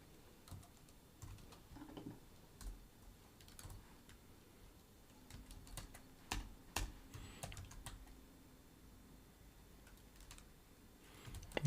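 Keys on a computer keyboard are tapped during live C++ coding, giving quiet irregular clicks in short bursts and scattered single strokes against a hushed room.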